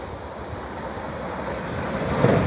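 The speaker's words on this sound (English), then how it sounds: "as you can hear, the rails are singing away" Steady rumble of a passing Class 450 train in Wimbledon with a faint high metallic ringing from the rails singing, growing slightly louder toward the end.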